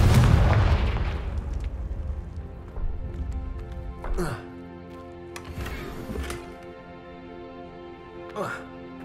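A Confringo blasting curse going off in Hogwarts Legacy on PS5, a heavy booming explosion at the start that rumbles away, followed by sharper magical bursts and crackles over game music.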